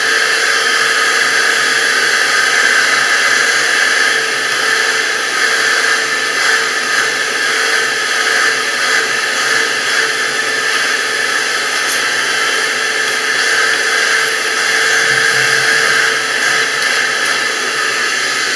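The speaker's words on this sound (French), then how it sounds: "Aspirer avec un petit aspirateur." A small handheld vacuum cleaner runs steadily at close range, sucking dust out of a clogged video projector filter with an even, loud hiss and no talk.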